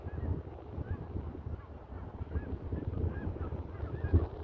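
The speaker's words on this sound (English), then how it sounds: "You hear the Canada geese in the background too." Distant Canada geese honk a few times at irregular intervals, faint and far off over a low outdoor rumble.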